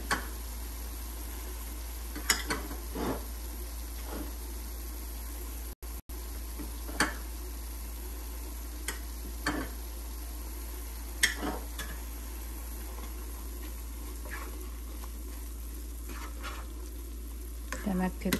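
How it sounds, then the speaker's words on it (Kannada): Beetroot burfi mixture with grated coconut stirred in a pan, with sparse spoon scrapes and taps against the metal over a quiet low hum, close by and fairly faint, without speech. "ಚೆನ್ನಾಗಿ ತಿರುಗಿಸ್ಕೊಳ್ಳೋಣ"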